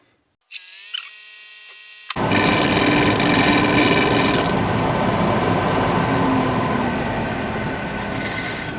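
A power tool whines up and then grinds loudly and steadily against a wooden handle, shaping it, a continuous abrasive roar that fades slightly toward the end.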